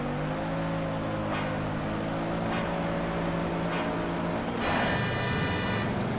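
A Bugatti Veyron drag car engine in Shift 2 Unleashed drones steadily at high revs, its harmonic whine holding and shifting, then surging louder and rougher near the end as it accelerates.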